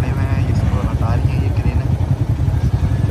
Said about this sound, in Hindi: तमाम बाइकर्स निकलने की कोशिश कर रहे हैं यहाँ से